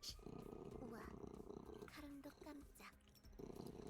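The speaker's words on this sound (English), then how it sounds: "My cat purring. He is in my lap." A cat curled on its owner's lap purrs in a steady, close, low rumble that continues almost throughout, pausing briefly while a voice speaks over it.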